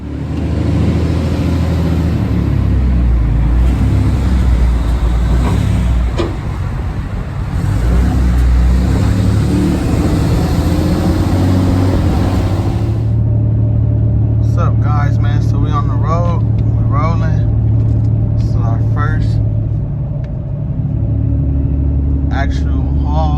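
A hot shot pickup truck towing a 40-foot gooseneck trailer on the road, its engine rumbling loud and close with road noise throughout, while someone talks over it.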